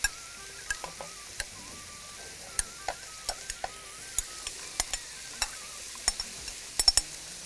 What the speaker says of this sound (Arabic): تمام الزيت والزبدة سخنوا. نبتدي بقى نحط الخضار المشكل